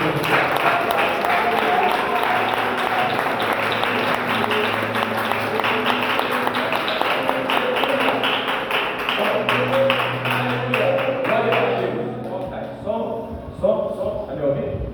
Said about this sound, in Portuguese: Você pode dar uma salva de palmas para esse Jesus